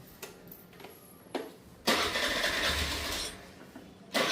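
A TVS Scooty Pep+ scooter engine cranks with a few brief clicks, then catches and runs for about two seconds before settling, recorded close and fairly quiet.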